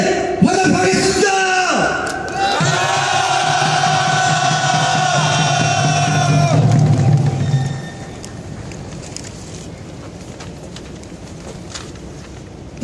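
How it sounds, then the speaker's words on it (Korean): Crowd at a Samsung workers' rally gives a loud, sustained shouted cheer for several seconds, then the roar drops away to a quieter murmur of outdoor noise. "힘찬 함성으로 두 동지에게 화답하겠습니다"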